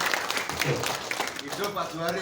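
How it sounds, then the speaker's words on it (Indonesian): An audience at a presentation on melon farming breaks into brief clapping that runs under a person's cheering voice. The applause is short and moderately close. "Tepuk tangan kita semua."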